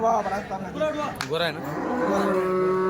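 An HF cow moos loudly and close at a cattle market, a long drawn low call with a rising, wavering pitch, amid faint background voices.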